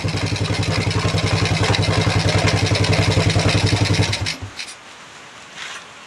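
A Honda Wave 125 motorcycle with a hard-starting, stalls-when-hot fault idles steadily with a loud, fast, even mechanical chatter, then the engine is switched off and winds down to near silence with a few faint clicks afterward.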